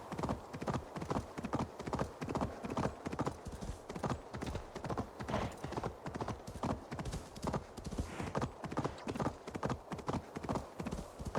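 A mount's hooves gallop along in Assassin's Creed Valhalla, a steady, rapid clip-clop rhythm that continues for the whole stretch, with an occasional neigh and faint game ambience underneath.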